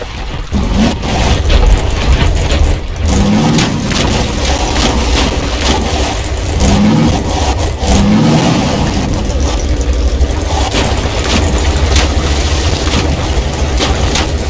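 A car engine revving hard during a race in Half-Life 2, with a loud, continuous growl that rises and falls with acceleration and gear changes, rough rumbling and occasional bumps throughout.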